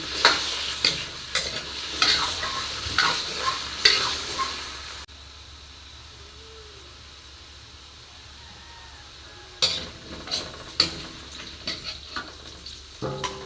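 Carrots and potatoes fry in a pan, a bright, dense sizzle heard close up with scattered crackles. It cuts out abruptly for a few seconds, leaving only a quiet hiss, then returns with fresh pops.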